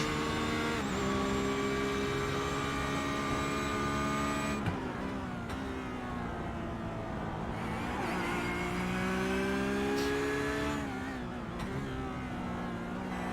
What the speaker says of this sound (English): As we go on board with the driver in a Porsche.